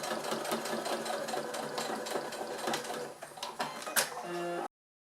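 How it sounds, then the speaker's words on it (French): A sewing machine runs steadily stitching a seam on faux leather for a convertible backpack, a continuous close mechanical whir with a short change near the end before it stops. "je repasse une couture en faisant mon point d'arrêt au début et à la fin"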